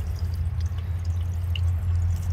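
Water from a garden hose flushes out a pool sand filter, a steady rushing and gurgling flow with scattered drips and splashes, fairly loud and close, with no talking.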